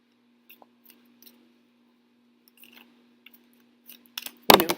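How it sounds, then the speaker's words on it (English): A small mini Motherpeace tarot deck shuffled by hand, faint scattered card clicks and taps that build into a louder, close burst of riffling at the end, with no talking. "the little deck it's a sweet shuffle"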